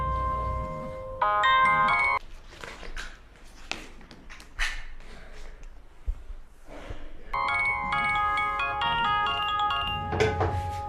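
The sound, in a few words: telephone ringtone ringing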